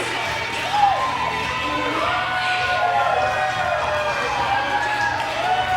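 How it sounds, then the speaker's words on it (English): A wrestling crowd cheers steadily as a singles-match wrestler makes his ring entrance at an arena event, a continuous roar of voices with occasional whoops and shouts standing out. "And there's the crowd absolutely behind Kirk"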